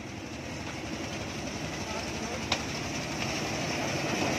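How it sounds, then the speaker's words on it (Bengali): A train pulling into a station platform, its low rumble and rolling wheel noise steady and moderately distant, with a brief sharp click midway. "ট্রেন ঢুকছে"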